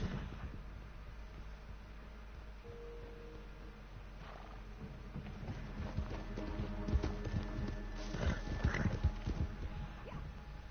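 A horse's hooves clip-clop in the video game Red Dead Online, faint and steady at first, then growing busier and louder in the second half amid other game sounds.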